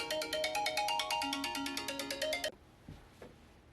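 Phone ringtone plays a rapid repeating electronic melody for about two and a half seconds, fairly loud and close, then cuts off to quiet room noise with a couple of faint knocks.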